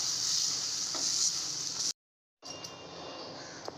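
Guar beans roasting in a hot pan give a steady, bright sizzle with occasional stirring clicks, cut off briefly by a short silence before the sizzling resumes.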